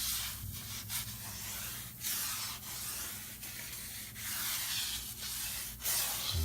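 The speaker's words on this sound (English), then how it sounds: "All I'm doing is just pushing this toothbrush across there a couple times." A toothbrush pushed back and forth across tile grout treated with acid cleaner, giving steady close scrubbing strokes in a regular rhythm of about one per second.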